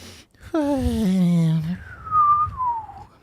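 A voice imitates a little nose whistle: a descending nasal tone, then a thin, high whistle sliding gently down, alone and close.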